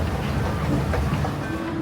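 Train ride in Okinawa, a steady close rumble of a moving railcar with faint rhythmic clatter under it, continuous for the whole stretch.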